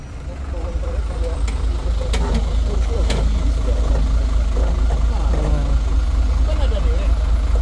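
A truck's engine runs at a steady idle on a hill at Bukit Kodok, where a truck has nearly tipped over. The rumble is loud, close and continuous, with voices talking over it and a few sharp clanks.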